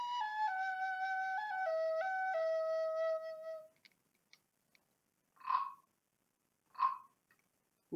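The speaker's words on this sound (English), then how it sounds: "Scarlet played her flute while the frogs were singing." After a flute plays a short stepping melody, two separate frog calls sound out in the springtime quiet, each a brief, throaty croak spaced over a second apart.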